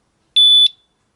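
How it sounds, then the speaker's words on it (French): A single short electronic alarm beep from a Radikal RK10 motorcycle disc lock, triggered by a small knock on the wheel, loud and shrill, lasting about a third of a second in otherwise silent surroundings. "j'ai tout de suite l'alarme qui se déclenche"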